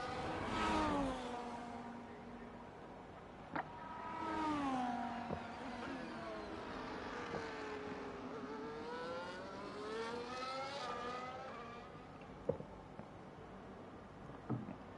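An Alpine racing car in a racing video game on a qualifying lap at Monza, its engine note rising and falling through gear changes with soft, distant whining sweeps.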